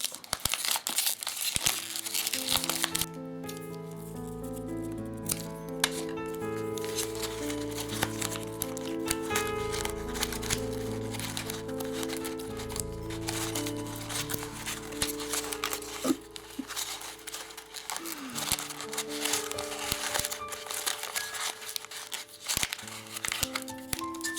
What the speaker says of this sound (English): And then you take the paper like this, squeeze a bit.